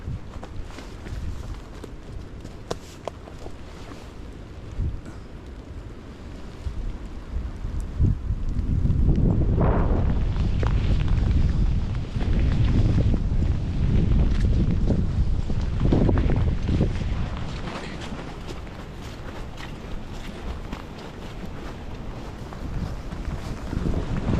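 Strong wind gusts on a cold, rainy day on the Appalachian Trail buffet the microphone in a low, roaring rush that swells midway through, then eases back to a steady blustery noise.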